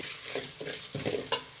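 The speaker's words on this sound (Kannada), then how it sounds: "ಸೊ ಅದಕ್ಕೆ ಮೀಡಿಯಮ್ ಫ್ಲೇಮಲ್ಲಿ ಇಟ್ಟು ಫ್ರೈ ಮಾಡಿ." Tempering for khara pongal frying in hot oil on a medium flame, a continuous close sizzle broken by a few quick scraping stirs and one sharp metallic tap.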